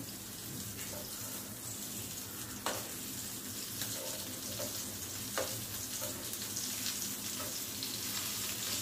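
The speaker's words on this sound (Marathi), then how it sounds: "आपली मांदेली एक 4-5 मिनिटं एका बाजूने फ्राय करून झालेली आहे" Mandeli fish frying in a pan Malvani-style, giving a constant close sizzle with a few faint clicks and taps from the pan. There is no talking.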